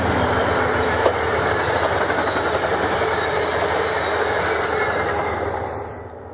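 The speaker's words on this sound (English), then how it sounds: "Here we see freshly overhauled unit number 512 heading east through Horningford," An eastbound freshly overhauled Amtrak train led by a B-40 locomotive, unit 512, passes on the main line, a steady loud rumble and rail clatter throughout that fades slightly at the end; no talking.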